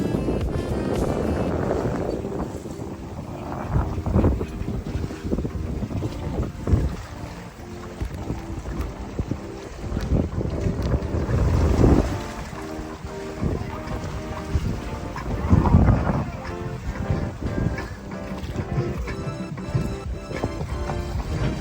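A sailboat heads across the ocean toward Biscayne Bay, with loud, steady wind buffeting the microphone and a low rushing roar of water and hull that swells and eases, and no one speaking.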